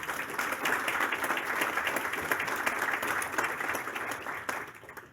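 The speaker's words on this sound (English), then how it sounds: "So a round of applause to thank them." Applause from an audience at an automotive industry event, a full steady wash of many hands clapping that tapers off toward the end, moderately distant and even.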